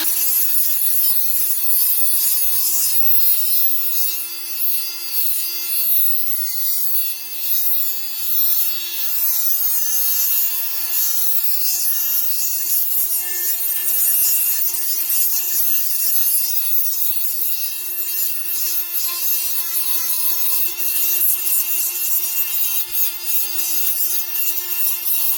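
Milwaukee M12 die grinder on speed setting 4 spinning a Scotch-Brite pad against a long-neglected rotor, a steady high-pitched whine with bright scuffing grit, continuous and close, no talking.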